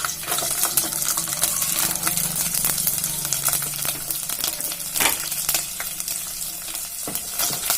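Garlic fries in hot mustard-seed oil while being stirred for a potato pickle: a steady, close sizzle runs throughout, broken by occasional scraping clinks of the spoon against the pan.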